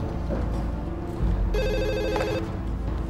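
An electronic telephone ringtone sounds over a steady low background hum, a bright repeating warble that carries through the middle of the short stretch, moderately loud and close.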